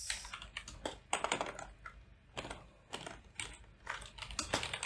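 Close, crisp computer keyboard typing comes in quick irregular bursts of clicks separated by short pauses, with no talking.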